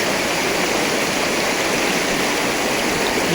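River water rushes steadily near a Shiv temple, a dense, continuous broadband roar like a stream or small falls, close and unbroken throughout with no voices.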